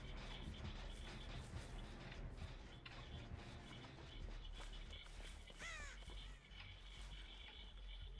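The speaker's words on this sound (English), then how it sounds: "Why are there so many birds now?" Several crows caw in the Dead by Daylight video game, with harsh repeated calls that stand out clearly over a steady low ambient game drone, moderately near.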